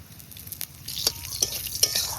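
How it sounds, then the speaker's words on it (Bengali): Bay leaf and whole cumin seeds dropped into hot oil left from frying pointed gourd, giving a soft continuous sizzle with light crackles and a few sharp pops close by, alongside faint stirring. "পটল ভাজার তেলের মধ্যেই একটা তেজপাতা আর একটু গোটা জিরে দিয়ে দিচ্ছি।"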